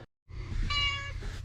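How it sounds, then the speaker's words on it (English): A cat in a garage lets out a single clear, close meow with a rising tonal middle, lasting about a second against a low background hum. "Sorry about the cat cameo."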